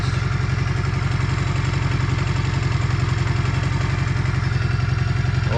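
Honda CM125 motorcycle running on half choke with a suspected single-cylinder fault, a steady close-up idle with an even, rapid chuffing pulse and light mechanical clatter throughout.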